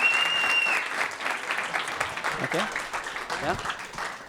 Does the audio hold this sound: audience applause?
yes